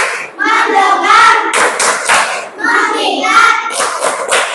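A group of pupils in a classroom performs the rhythmic 'tepuk fokus' clap routine, with bursts of hand claps alternating with children chanting along in unison, loud and close.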